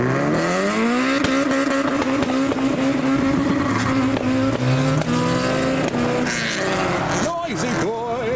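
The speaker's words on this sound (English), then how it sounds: "This is a Proton jump buck. It's got a Mitsubishi Evo 3 engine, and it's a Ute." Modified Proton Jumbuck ute fitted with a Mitsubishi Evo 3 engine pulls away from a car show in heavy rain, the engine revving loudly and climbing through the gears close by as it drives off.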